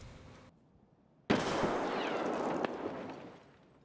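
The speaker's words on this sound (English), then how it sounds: "Another nade." Grenade explosion in Escape From Tarkov: after a quiet stretch, a single sharp, loud blast erupts and decays into a rolling rumble lasting over two seconds, with a smaller crack partway through.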